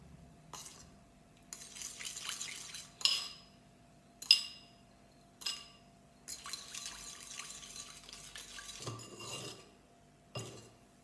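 Salt being stirred and mixed into a meat marinade in a bowl, with soft scraping and clinking of a utensil against the bowl coming in short repeated bursts, close and moderately quiet, no talking.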